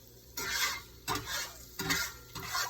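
Ginger goes into hot stir-fry oil that is seasoning a pan, producing four rhythmic bursts of sizzling and stirring scrapes with brief quieter gaps between them, close and with no speech.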